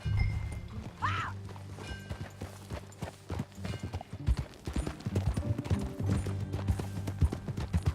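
Horse hooves galloping in the video game Red Dead Redemption 2, a fast, rhythmic clip-clop with low thuds and a brief whinny early on, close and fairly loud against a low musical drone.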